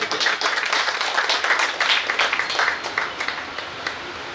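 An audience gives loud, close, dense applause for Mohammed Asif at the opening of a jewellery showroom, with rapid overlapping claps continuing throughout.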